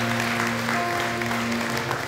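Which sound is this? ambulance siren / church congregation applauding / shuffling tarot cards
church congregation applauding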